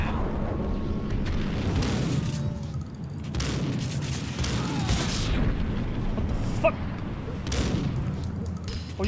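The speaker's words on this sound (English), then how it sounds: "Did you just get yourself with your own grenade?" A grenade blast in the Max Payne video game lands as a deep rumbling boom inside a steady, loud wash of gunfire and game noise that continues throughout, with a player's voice faintly under it.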